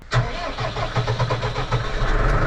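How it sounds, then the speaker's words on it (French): A John Deere tractor engine struggles to start, cranking in a rapid uneven chug with repeated faltering turns before catching and running roughly near the listener. "Le tracteur là, dès qu'il tombe pas assez, il démarre limite."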